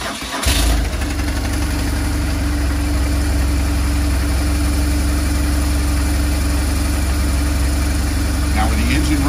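A BMW motorcycle engine starts and settles into a steady idle in neutral, running close and loud throughout, with a brief voice partly masked under the running engine.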